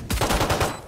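Rapid gunfire in the video game Valorant, a short burst of several loud, close shots fired in quick succession with no talking.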